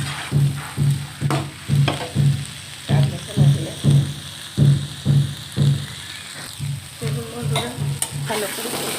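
Spice paste and chickpeas sizzle in a pan as a ghugni-style dish with potato and yogurt cooks. A spoon stirs in a steady rhythm of regular scrapes over a continuous fry hiss, close and fairly loud, with no talk.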